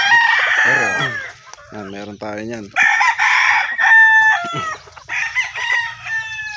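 Breeder gamefowl hens and roosters crow and cluck up close, several loud overlapping cock-a-doodle-doos with clucking between them, while someone speaks briefly over them.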